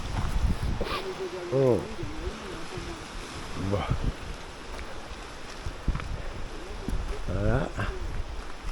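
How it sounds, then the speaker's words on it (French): Sea and wind on the coastal path near Saint-Tropez, a steady broadband rush of wind and surf running throughout, with someone speaking briefly over it. "le bruit de la mer."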